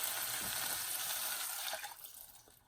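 Four cups of water pour into a rasam pot in a steady, rushing stream that holds for about two seconds, then tapers off as the flow stops. No one speaks over it.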